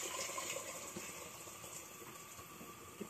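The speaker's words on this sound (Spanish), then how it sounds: "Ahora viene agua caliente." Hot water being poured over washed rice in a kitchen, a steady soft stream of running and splashing liquid, fairly quiet and uninterrupted.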